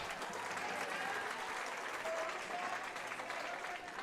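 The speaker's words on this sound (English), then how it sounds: "You hear the crowd coming alive a little bit." Crowd at an outdoor NPSL soccer match between Flower City Union and Michigan Rangers FC, a steady distant wash of clapping and cheering that holds at a moderate level throughout.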